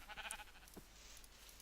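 A sheep in the Minecraft video game bleats once, a brief, faint, nasal cry at the start, followed by quiet in-game ambience.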